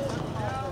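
Horse hooves clip-clop steadily and close by at a horse trading sale, with people talking over the hoofbeats throughout.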